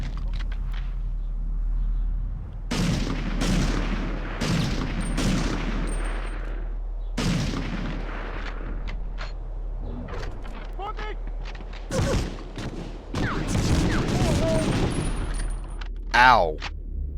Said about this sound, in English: That was only a few shots.